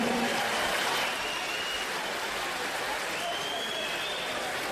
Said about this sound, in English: how about a round of applause for these two guys, Corey and Shaun